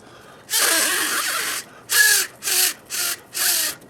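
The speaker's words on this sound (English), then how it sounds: "good job on making your paper duck whistle," A homemade paper duck whistle call is blown: one long reedy, buzzing honk followed by four short, evenly spaced honks, loud and close with no voices.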